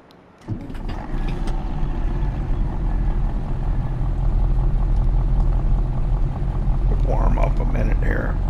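Truck engine in Farming Simulator 22 on an old Polish farm, a steady low idling rumble that starts abruptly and holds at an even level with some higher clatter near the end.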